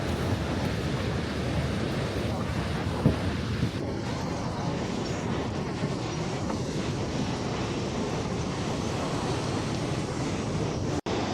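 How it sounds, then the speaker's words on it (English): Detian Waterfall on the China-Vietnam border, a 70-metre drop, gives a steady, dense roar of falling water throughout, with one sharp click near the end. "It is the Asia's largest transnational waterfall."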